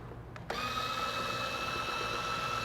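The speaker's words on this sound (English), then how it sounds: "we're gonna go ahead and do the mixer for a little bit longer" An electric mixer whirs into a steady, even motor drone, close and moderately loud, blending batter for dulce de leche muffins.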